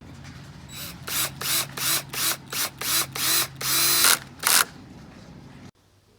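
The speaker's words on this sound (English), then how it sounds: "I've started screwing in the rail just using some number 8s with my screwdriver gun." A cordless screwdriver gun drives number 8 screws into a pool stair rail in a rapid series of short, loud whirring bursts, about ten in a row, ending with a longer run and clicks before cutting to silence.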